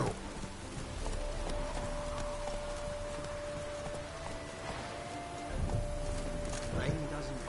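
Steady rain pours across an open-world video game scene, a continuous hiss of drops that runs the whole time under a constant tone, with a horse rider's surroundings faintly audible.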